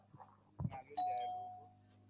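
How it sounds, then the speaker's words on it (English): A soft thump, then an electronic doorbell chime rings once with a clear tone that fades slowly. "As you can hear, that's the sound of the doorbell."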